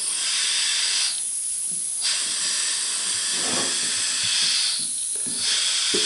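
A small compressed-air engine with a rotary valve runs close by, making a loud, continuous hiss of escaping air that dips and swells in slow pulses, with faint mechanical knocks underneath.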